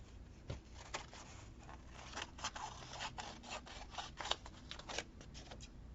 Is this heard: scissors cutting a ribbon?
yes